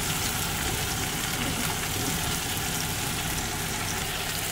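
Garlic frying in a pan while making chicken in cream sauce, a steady close sizzle and crackle with no pauses and no talk.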